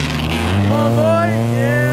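A Fox body car's V8 engine revs loudly and close by at a night car meet in Illinois, its pitch climbing through a short, strong pull.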